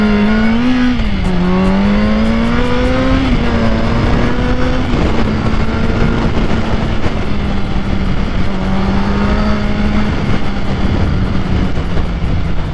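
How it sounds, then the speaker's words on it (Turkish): A Yamaha R6 motorcycle engine revs hard and angrily, its pitch climbing, dipping and holding in a loud, sustained high-rpm wail that stays close and continuous with no voices over it. "Sinirli gazlama geliyor biraz."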